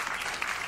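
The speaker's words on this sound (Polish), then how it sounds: "Brawo dla pani Magdy." Audience applause in a studio show setting, a brief dense wash of clapping at steady moderate loudness.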